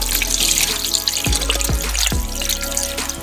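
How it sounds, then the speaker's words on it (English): Water pours from a beef broth container into a pot of pork neck bones on the stove. The stream runs steadily and gurgles, with a few distinct glugs as the container empties, and no one speaks. "pour it in some water."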